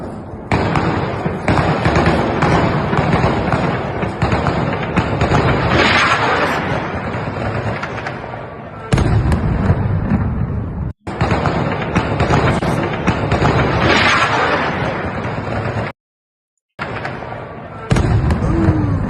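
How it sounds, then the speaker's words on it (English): Dense, rapid gunfire and blasts as air defenses shoot down a drone over Kyiv, loud and continuous crackling bursts broken by brief cut-offs, with voices faintly mixed in. "Gunfire, missile likely trying to shoot down the drone, and a short buzzing sound from the drone before the explosion."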